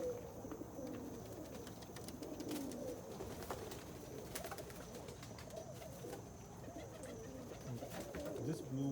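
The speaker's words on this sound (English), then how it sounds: "This blue bar is a bird that I bought this year from a guy who raises birds." Pigeon cooing from a blue bar cock bird, a yearling, heard as soft, continuous low murmuring coos close by, steady throughout with faint background clatter.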